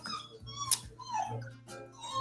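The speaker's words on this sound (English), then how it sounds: "my dog's going crazy" A dog whimpers and yips in short bursts indoors, with a few sharper higher cries between whines, fairly close and moderately loud.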